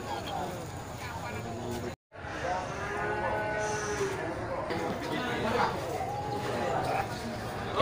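A busy livestock market in Grogol selling goats and sheep in the week before Eid al-Adha, with a dense crowd-and-animal din and scattered bleats, while a voice talks over it.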